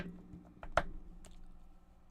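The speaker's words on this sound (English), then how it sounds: "sorry, that is my shuffling" Tarot cards are shuffled by hand in a few brief, soft riffling clicks with a sharp flick in the middle, close and alone in a quiet room.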